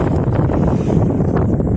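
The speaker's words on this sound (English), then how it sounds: "Might be a little windy." Strong wind buffets the microphone aboard a sailboat near a kelp forest, a steady loud roar with gusty rumble and no voices.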